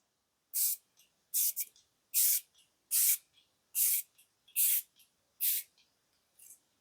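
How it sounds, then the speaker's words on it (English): Seven or eight quick, hissing spritzes from a spray bottle in a steady rhythm, close by, with brief silences between each burst. "It's one of the nicest setting spray smells. So let me just pop it on."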